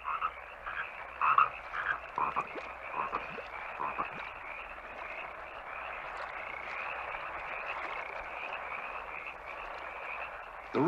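A frog croaks repeatedly in short, irregular bursts over a steady outdoor chorus of insects or other frogs, fairly close and clear with no talking.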